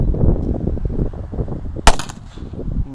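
A firecracker goes off inside a rat hole with a single sharp, loud bang partway through, set against rumbling outdoor handling noise and a short ringing tail.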